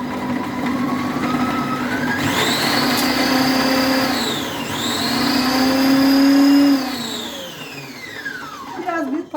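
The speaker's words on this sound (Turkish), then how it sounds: "Robotumu çalıştırayım." A kitchen food processor chopping peppers and other lahmacun topping ingredients, a loud whirring motor that rises and dips in pitch as the blades work, then spins down at the end, while someone speaks over it.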